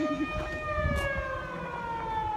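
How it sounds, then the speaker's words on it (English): A small-town warning siren in Koosheram, Utah wails from a distance, its tone sliding slowly, with faint background noise and no speech. "this siren thing is going off"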